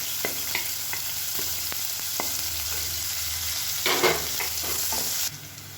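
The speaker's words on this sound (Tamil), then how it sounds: "இப்போ இதில் ஒரு கைப்பிடி பொடியாக நறுக்கின வெங்காயம் சேர்க்கணும்." A handful of finely chopped onions fry in hot oil in a pan while tomato rice is being cooked. The sizzle is close and steady, broken by occasional stirring clicks, and no one speaks.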